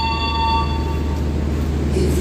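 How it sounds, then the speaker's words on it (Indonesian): A Lodaya passenger train with new generation carriages rolls past close by, a loud, steady rumble of wheels on rail with a few high squealing tones fading out partway through. "di sebelah kanan ini rangkaian kereta api Lodaya tambahan teman-teman"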